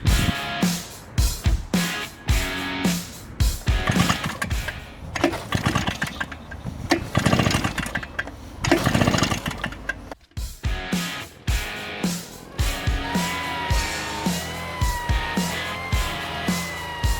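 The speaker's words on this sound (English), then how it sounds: "to simulate the wind better, we can try something extreme. The leaf blower." A leaf blower blasting in short bursts on a windy day, a loud, rough engine roar that surges and cuts off repeatedly close by, with pauses between runs.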